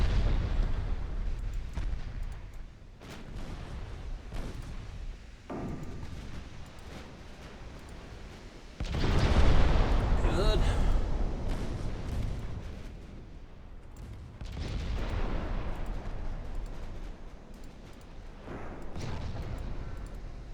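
Battleship main guns in Ultimate Admiral Dreadnoughts firing heavy booming salvos with rumbling explosions, loudest around ten seconds, amid continuous battle noise.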